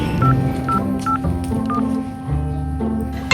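A telephone being dialed, with a run of short, evenly spaced beeping tones over a low background hum and faint voices.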